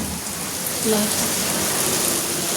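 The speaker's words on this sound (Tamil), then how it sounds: "நல்ல மழை பெஞ்சிக்கிட்டே இருக்குது பாருங்கள்" Heavy rain pours down steadily, a dense hiss filling the air without letup, close and loud, with no one speaking.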